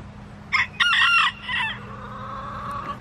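In a chicken coop, a rooster crows in a loud, close burst, followed by softer clucking from the hens beneath a low background hum.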